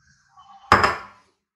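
A lid set over a bowl of sliced onions makes one sharp clattering knock with a brief rattle, close and clear, fading within half a second.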